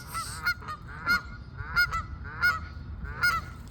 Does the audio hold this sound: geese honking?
yes